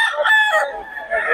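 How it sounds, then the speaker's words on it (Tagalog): Roosters crow at a poultry market, drawn-out harmonic calls rising and falling over about a second, close and fairly loud, with a hint of other birds behind. "Mga manok na."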